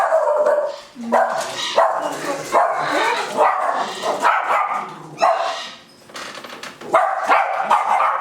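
A 14-week-old puppy barks repeatedly in short bursts, fairly close, with some yipping mixed in over a noisy background.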